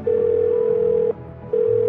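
Ringback tone heard while dialling a number inside the video game Do Not Feed the Monkeys: a steady electronic tone that holds for about a second, breaks off briefly, then resumes, close and clear with no talk.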